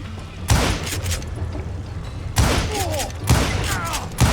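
Gunfire in a video game: several heavy, booming bursts spaced about a second apart under steady game noise, with a short spoken exclamation.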